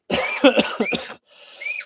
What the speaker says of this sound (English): I'll be coughing a little bit throughout the live stream today.